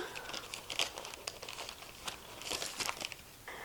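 A thawed puff pastry package is torn and opened, its plastic wrapper crinkling and crackling in close, irregular bursts for a few seconds with no talking.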